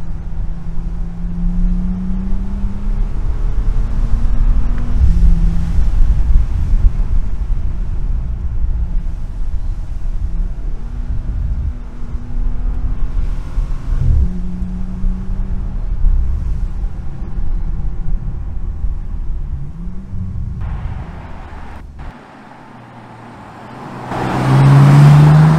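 A Bentley Continental GTC Speed with its 12-cylinder W12 engine cruises as the engine note climbs and drops through several gear changes, heard loud from inside, then briefly goes quiet before surging again.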